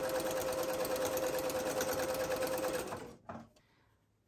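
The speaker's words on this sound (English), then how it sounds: "Okay, we're gonna top stitch this one." Sewing machine top stitching a tote, running steadily at a fast even whir for about three seconds, then stopping, followed by a couple of small clicks.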